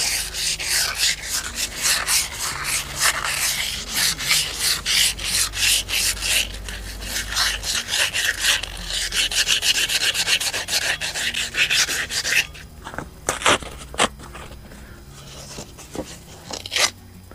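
Hand sanding with coarse sandpaper while rebuilding a 1965 VW 40hp engine for a rear main seal job: rapid back-and-forth rasping strokes, loud and close, continuing steadily before slowing to a few scattered rubs near the end.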